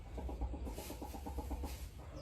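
A seven-month-old game chicken, a grey-red fowl weighing about 2.4 kg and newly taken from the flock, gives a quick run of soft clucks close by, faint and with no talking.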